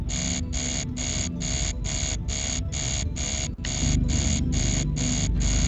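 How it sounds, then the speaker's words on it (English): An alarm stuck on in the video game Mission Critical beeps in a steady, rapid pulse that keeps repeating without a break, loud and insistent over a low background hum. "Please tell me this alarm is about to end."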